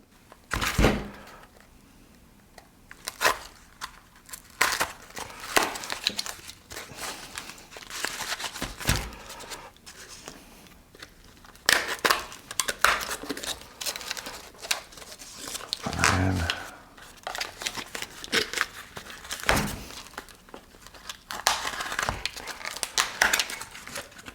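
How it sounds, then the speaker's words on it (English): Packaging around output transformers for an Elekit TU-8900VK single-ended tube amp kit is pulled open, with bursts of crinkling, tearing and rustling scattered irregularly through a fairly close, quiet room. "so let's unwrap the output transformers."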